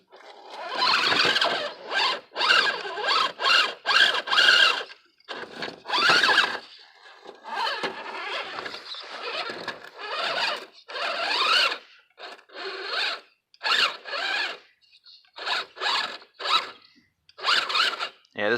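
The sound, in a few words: Futaba servo straining on Tamiya F150 RC truck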